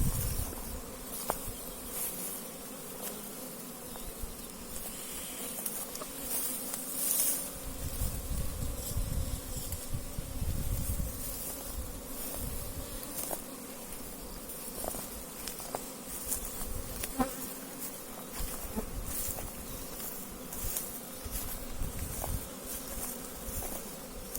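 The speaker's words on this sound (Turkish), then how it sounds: "Arılar güzel çalışıyor." Honeybees hum steadily around hives, a dense, continuous buzzing with individual bees droning past close by.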